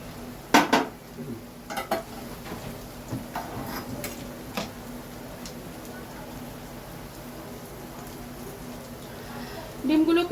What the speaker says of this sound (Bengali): ডিমগুলোকে আবারও আমি উল্টে দিচ্ছি